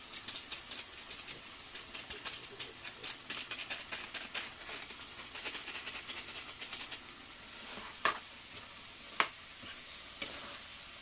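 Vegetables with chilli and cumin powder fry and sizzle in a pan while being stirred, a soft continuous hiss with rhythmic scraping strokes and a couple of sharper clinks near the end.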